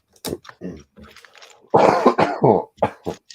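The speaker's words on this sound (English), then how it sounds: "Dirty cough." A few close, harsh coughs come in quick bursts, with a throat-clearing rasp between them.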